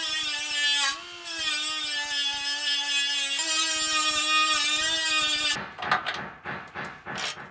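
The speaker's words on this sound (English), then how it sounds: "that's exactly why the die grinder exists" A die grinder working on the exhaust of an Opel Astra K Sports Tourer 1.4 turbo, a steady high-pitched whine held for several seconds with a brief dip, then stopping into scattered knocks and clatter nearby.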